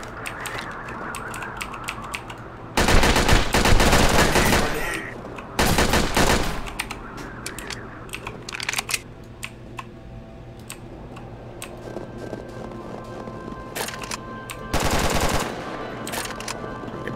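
Gunfire from the video game Red Alliance comes as loud, sustained automatic bursts, two long volleys and a shorter later one, with scattered single shots and clicks in between.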